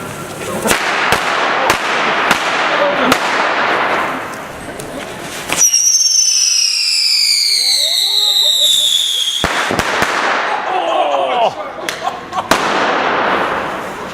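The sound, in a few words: firecrackers exploding in the street at Las Fallas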